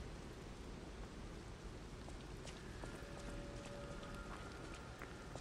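Faint, steady rain hisses in the video game Lies of P, a soft continuous wash with a few scattered light ticks and no voices.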